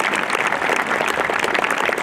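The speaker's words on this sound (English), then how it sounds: "Let's give them a round of applause," Audience applause fills a school commencement ceremony, a steady dense clapping from a large crowd that holds at an even level for the full two seconds with no talk over it.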